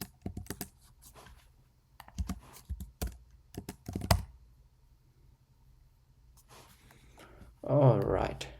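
Bursts of quick, close computer keyboard typing while entering data into SAP software, in separate clicky runs with pauses, and a person talking between them.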